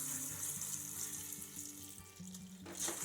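Water is squeezed from a plastic sachet into a pot of beans, making a faint, steady pouring stream that runs for a few seconds with a brief splashier surge near the end.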